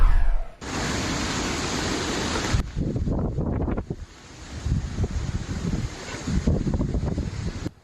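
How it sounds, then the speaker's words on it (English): Storm waves wash up against the seawall at the Embarcadero in San Francisco, a loud, broadband rush of surf churned by gusting wind, with surges rising and falling through the clip and no voices. "take a look at this video at the Embarcadero"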